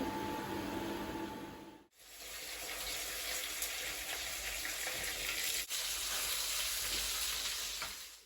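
Spiced sea bass frying in a pan, a steady loud sizzle and crackle of hot oil that continues almost unbroken for several seconds, with brief dips and no talking.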